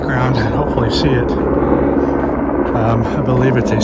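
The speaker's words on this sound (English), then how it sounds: "If you can hear the helicopter in the background and hopefully see it" A search and rescue helicopter hovers over Catalina State Park near the Sutherland Trail, its rotor throbbing in a loud, steady rhythmic chop, while a person speaks over it.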